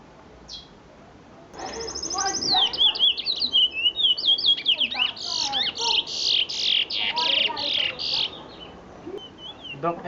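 A contest songbird in training sings a run of short, fast chirping phrases, loud and close, repeating in quick bursts over several seconds with little pause.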